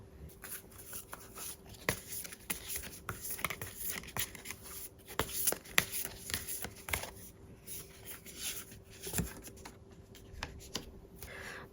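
Tarot cards being shuffled and handled to draw one, with a quick run of crisp flicks, riffles and light taps, close and fairly quiet, and no talking.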